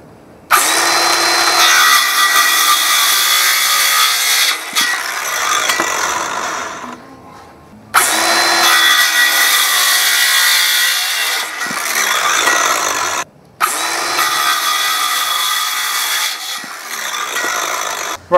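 Wood pieces for a Viking-style Lund stool being cut with a saw, loud steady rasping strokes in three long bursts separated by short pauses, no talking.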